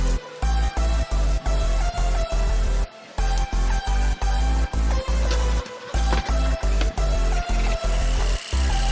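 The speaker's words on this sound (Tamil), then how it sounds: "ஸோ இதை ஷார்ப் ஆக்கிறதுக்காக இந்த மாதிரி ஒரு சின்ன அரத்தையும் யூஸ் பண்ணி தேய்ச்சிட்ருக்கோம்." A small file rasps along the edge of a hacksaw blade to sharpen it, in quick regular back-and-forth strokes with brief pauses, loud and close.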